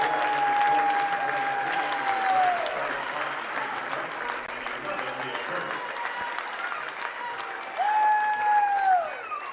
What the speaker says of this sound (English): And here comes the applause for this senior group for Norwell.